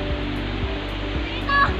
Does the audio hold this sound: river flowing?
yes